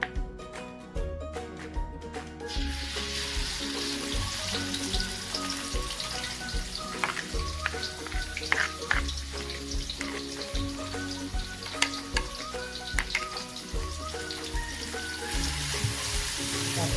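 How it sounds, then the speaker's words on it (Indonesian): A paste of blended chili, ginger and galangal sautés in hot oil for a Padang-style beef rendang, with a loud continuous sizzle and a stirring clatter throughout. "Kita tumis dulu. Ini cabai yang udah di blender tadi sama jahe sama lengkuas."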